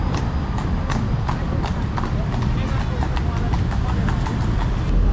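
Horses run at speed with a dense, rapid clatter of hooves during a traditional Nepali wedding, loud and continuous, while voices talk over the top.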